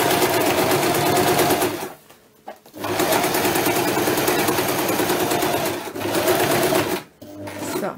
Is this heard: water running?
no